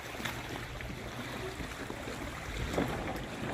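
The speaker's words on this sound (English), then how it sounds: "I just love the sounds of the waves." Small waves lap against a dock on a lake at Grand Isle, Vermont, a soft, steady wash with light splashes and a faint breeze, no voices.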